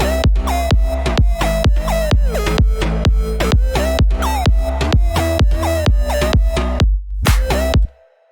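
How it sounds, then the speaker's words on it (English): A loud electronic music drop pounds with heavy rhythmic bass hits under a harsh, distorted bit-crushed square wave lead, briefly cutting out near the end before one last burst and a sudden stop. "So now the drop sounds like this."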